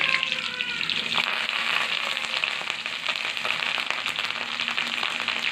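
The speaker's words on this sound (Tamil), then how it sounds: "எண்ணெய் காஞ்சதுக்கப்புறம் பூண்டு முதல்ல போட்டுக்கோங்க" Garlic frying in hot oil at the start of a green chilli chicken masala, a steady dense sizzle and crackle running close and continuous throughout with no voices.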